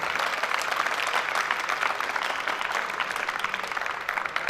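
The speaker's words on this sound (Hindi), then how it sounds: "जाहिद साहब के लिए तालियां बजाएं जनाब।" Sustained clapping fills the room as the audience at a BZU commerce department welcome party in Multan applauds Zahid sahib, many hands beating steadily throughout.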